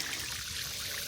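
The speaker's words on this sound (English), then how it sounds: "I've got the big watering can in the other hand, so I can't reach out and touch stuff right now. I'm going to add a little water to this" Water pours steadily from a big watering can, a continuous soft splashing hiss for about a second.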